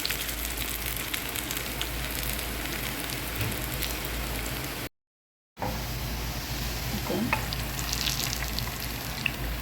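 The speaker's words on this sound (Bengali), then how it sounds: "এখন বাজার পেঁয়াজ রসুন এবং বাগারের ভিতরে টমেটো টমেটোটা ভেজে নিচ্ছি" Tomatoes fry with browned onion and garlic in hot oil, giving a continuous dense sizzle with scattered spatters and a brief silent gap partway through; no voices.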